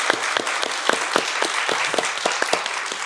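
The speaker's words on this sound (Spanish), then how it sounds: "Le mandamos un aplauso con mucho amor y mucho cariño." Studio audience applause, a brief burst of steady clapping from a small group, fairly close and with no talk over it.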